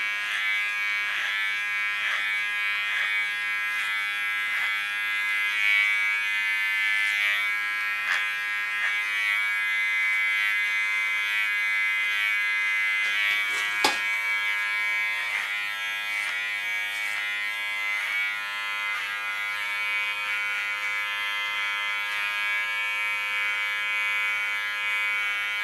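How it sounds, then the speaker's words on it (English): An electric hair clipper cuts hair alongside a comb, a close and continuous high buzz with small dips and flutters as it passes through the hair, and a single brief knock partway through. "I always work with a comb and a clipper"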